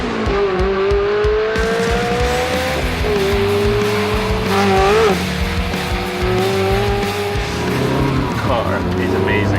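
A Maxim supercar's engine runs loud and close, its revs climbing and falling in repeated sweeps over a steady rumble, with tire squeal and skidding mixed in and a voice audible at points.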